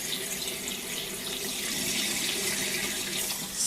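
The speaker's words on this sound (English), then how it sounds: "I'm going to drain it." Tap water pours steadily into a sink as washed Japanese rice is drained, a close, even rushing splash with no pauses.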